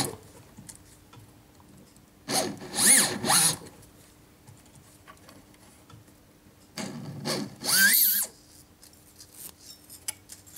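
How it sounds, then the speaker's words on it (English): A bud burr on a rotary tool widens the hole in a faceted stone pendant, two short bursts of high whirring grinding separated by quiet, close and without speech. "I use this bud burr to open the hole up."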